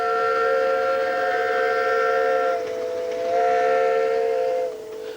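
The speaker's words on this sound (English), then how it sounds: "Robert Fairley's engine doubled the haulage capacity of the Festiniog" A Fairlie steam locomotive on the Festiniog Railway sounds a long, steady steam whistle, loud and sustained for several seconds with a short dip midway before trailing off, no talk.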